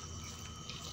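Water is poured into a dahi kadhi mixture of yogurt, turmeric, salt, cumin and asafoetida, making a faint, continuous trickling stream with no voices.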